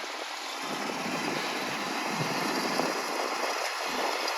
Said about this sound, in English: that's what I call one nice John Deere combine right there